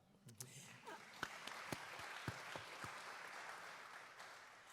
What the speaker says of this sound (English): So hand clap yourselves